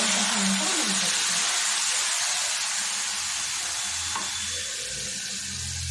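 Hot, thick boiled milk poured over roasted vermicelli for kesari hisses and sizzles steadily in the pan, a close, dense frying rush with a faint clink of a utensil near the end.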